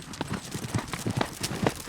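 Several horses loping on a ranch trail ride, hooves clip-clopping in a quick, steady, overlapping rhythm, close and fairly loud, with no talking.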